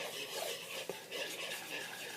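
Vanilla is stirred into a goodey ball mixture in a bowl, giving a steady, soft, close scraping and swishing with one brief knock partway through.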